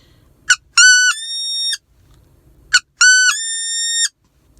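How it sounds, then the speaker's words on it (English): A Duck Commander wood duck call blown twice, each time a sharp short chirp followed by a long, high-pitched whistled squeal, clear and close against silence. "I've been practicing with this Duck Commander call"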